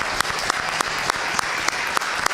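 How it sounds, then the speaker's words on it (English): Small board of education meeting audience clapping, a few close individual claps repeating in a light, uneven rhythm, sparse rather than a full crowd. "Let's give Braylin a very big round of applause"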